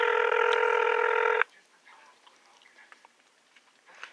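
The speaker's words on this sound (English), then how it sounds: "let's see if we can dial that number back now" A telephone dialing tone sounds loudly and steadily for about a second and a half while a number is dialed back to a police station, then cuts off, leaving faint clicks and quiet handling noise.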